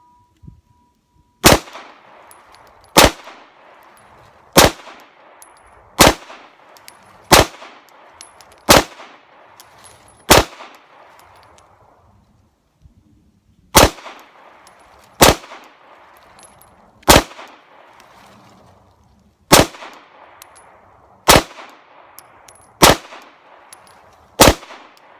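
Pistol and Kel-Tec Sub2000 carbine shots ring out at an outdoor range, roughly fifteen sharp cracks in two quick strings separated by a pause, loud and close, with metallic clangs from a steel popper target.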